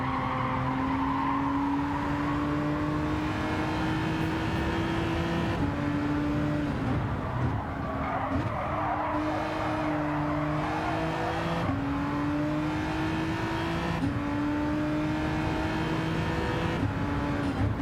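A Genesis X Gr.3 race car lapping Watkins Glen in Gran Turismo 7, its engine droning loudly and continuously, rising in pitch and dropping sharply at each gearshift, with faint tire noise through the corners.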